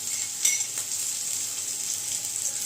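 Onion browning in a pan with ginger and green chili paste added, a steady close hiss of frying with a couple of faint utensil taps, no voices.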